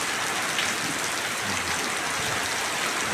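A heavy late-October downpour at the close of the rainy season makes a steady, loud wash of rain on surfaces nearby, unbroken and without speech.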